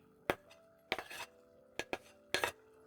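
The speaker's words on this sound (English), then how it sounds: "I'm going to add in my" Chopped capsicum tipped into a pot of creamy coconut lentils and stirred, giving several sharp metallic clinks and scrapes of a spoon against the pot in short separate bursts, close up with no talking.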